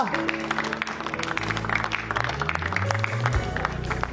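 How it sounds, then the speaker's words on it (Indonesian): Studio audience applauds a contestant on a live elimination episode of a comedy talent show, a dense patter of clapping running steadily throughout over sustained musical tones. "Kita kasih apresiasi, tepuk tangan untuk Pedro."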